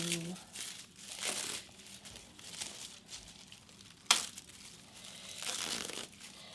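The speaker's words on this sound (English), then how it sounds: "use some of this little recycled paper stuff as I work toward more sustainable packaging" Recycled paper packing material crumpled by hand into a shipping box, a series of soft crinkling bursts with one sharp crackle partway through, close and moderately loud under quiet room noise.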